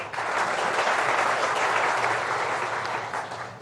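Audience applause at a Republic Bharat stage event, a dense, loud burst of clapping from a large crowd that swells quickly and fades slightly toward the end.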